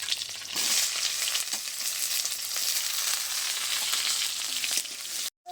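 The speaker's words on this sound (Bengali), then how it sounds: "পেঁয়াজটা হালকা করে ভেজে নিয়েছি" Chopped onion fries in hot oil with cumin seeds and chilli, a loud continuous sizzle and crackle held close throughout, cutting off abruptly near the end.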